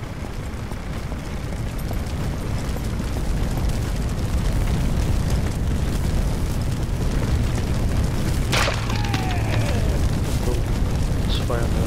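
A fire burns behind a wall in Firefighting Simulator, a steady loud roaring rumble with crackling and one sharp burst partway through, while someone talks over it.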